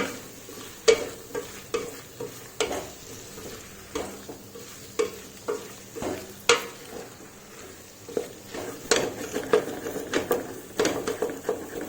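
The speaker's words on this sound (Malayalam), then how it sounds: "നന്നായിട്ട് ഇളക്കി യോജിപ്പിക്കുക." A spoon scrapes and stirs through thick sizzling masala for prawn rice in a pan, with repeated scraping strokes getting busier toward the end.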